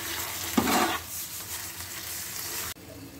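Brinjal masala with curd stir-fried in a pan, a soft hiss with a brief burst of scraping and sizzling near the start, then quieter frying that cuts off abruptly near the end.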